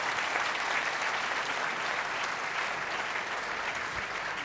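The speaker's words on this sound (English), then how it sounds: "please, he deserves a huge round of applause here" An audience gives a guest a steady round of applause at a live event, a dense, continuous patter of many hands clapping at moderate distance, unbroken for the full stretch.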